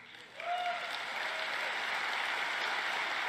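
Light applause rises from an audience at a political speech, swelling quickly after a brief quiet moment and holding as a soft, even wash of distant clapping.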